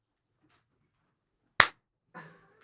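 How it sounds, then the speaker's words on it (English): A single sharp hand clap rings out alone in a quiet room, followed shortly by a brief faint voice. "Just keep doing one clap until he gets there."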